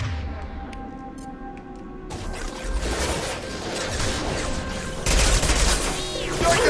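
Rapid bursts of gunfire from a firefight in the video game Mass Effect, loud and dense, with heavier volleys crashing in around two and five seconds over a constant electronic background.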